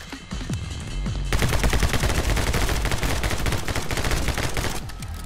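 Sustained rapid gunfire in the video game My Friend Pedro, a loud, dense stream of shots with no pauses.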